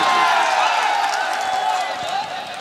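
A big crowd at a Bhojpuri concert in Siwan claps and cheers in a steady, loud wash of noise, with amplified voices from the stage mixed in.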